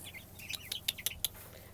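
Young chickens, a mixed flock of six-week-old and three-week-old birds, giving a quick run of short, high clucks and chirps close by over a low background hum.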